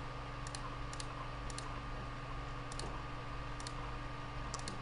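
Computer mouse clicks while working in ArchiCAD with the space bar held, a few quick paired clicks spaced irregularly over a steady background hum.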